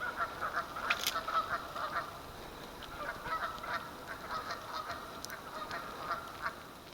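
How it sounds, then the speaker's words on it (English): Several geese honk repeatedly in the distance near a creek or swamp, their calls carrying over a steady outdoor hiss. "Geese."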